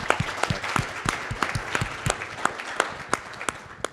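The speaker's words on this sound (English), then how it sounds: "it would be right for us to give a warm round of applause for Freddie and the entire team" A conference audience at a medical AI event gives a warm round of applause, many sharp, distinct claps spread over a steady bed of clapping that slowly fades toward the end, with no talk over it.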